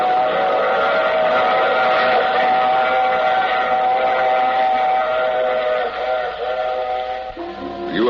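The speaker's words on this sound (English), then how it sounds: "I take this same train every week at this same time." A steam train whistle sounds in long sustained tones over the steady rumble of a running train, a loud continuous radio-drama effect that dips and shifts near the end.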